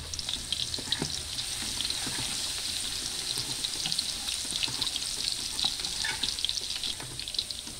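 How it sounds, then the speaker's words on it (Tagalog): Garlic frying in cooking oil for an eggplant dish, a dense crackling sizzle close up with rapid spitting pops throughout and no speech. "maglagay na tayo ng mantika. Ilagay na natin yung bawang."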